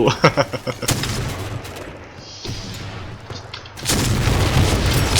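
Grenade explosions and gunfire in the online shooter game Point Blank: rapid, sharp shots crack in a quick burst, then heavy booming blasts and a loud sustained rumble of explosions follow.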